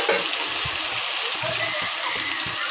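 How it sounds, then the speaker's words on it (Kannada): Chopped green chillies sauté in a hot pan for prawn gravy, giving a steady, close sizzle and crackle with faint stirring knocks underneath and no talking. "ಸಣ್ಣದಾಗಿ ಹೆಚ್ಕೊಂಡಿರೋಂಥ ಹಸಿಮೆಣಸಿನ್ಕಾಯಿ ಹಾಕೋಣ. ಅದನ್ನು ಸ್ವಲ್ಪ ಬಾಡಿಸ್ಕೊಂಡು"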